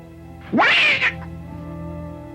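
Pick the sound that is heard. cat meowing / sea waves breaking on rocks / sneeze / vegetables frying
cat meowing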